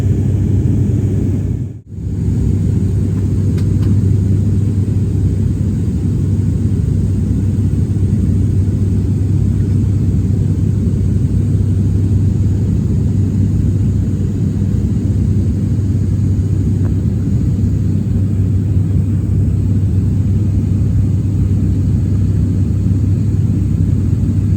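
Steady, loud engine drone fills an airplane cabin on a scenic mountain flight toward Everest from Pokhara, a continuous low rumble and hiss that barely changes throughout, with one brief dropout near the start.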